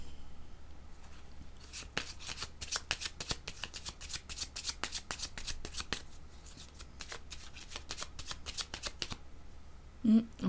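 Tarot cards are shuffled for a card reading, a steady run of crisp riffling flutters close up and fairly loud, pausing briefly near the end, with a faint hum underneath.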